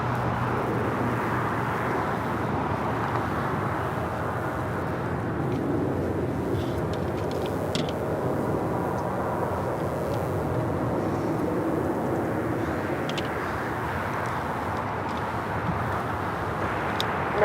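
Airplane arriving on a runway at Los Angeles airport, a steady distant jet roar and hum with faint background rumble persisting throughout, no talk.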